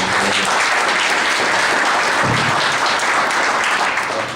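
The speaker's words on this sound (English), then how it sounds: "already I'm liking these hearings way better up here because people applaud" An audience at a Senate hearing in Hibbing claps together, a loud, dense and sustained round of applause filling the room.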